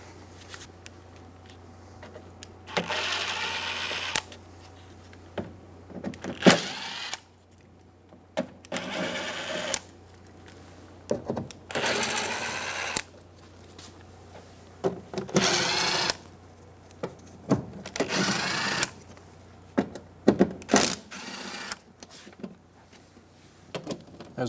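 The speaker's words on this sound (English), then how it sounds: "Using a 7mm socket, we're going to go around and remove all 10 bolts around the outside." A power socket driver zipping out 7mm bolts from the interior door panel of a 1988-1999 GMC K1500 truck, repeated short bursts of whirring separated by pauses, close and loud.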